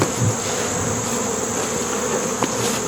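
Honey bees in an open hive hum in a steady, dense buzz close by, with a few brief clicks and knocks from handling the frames.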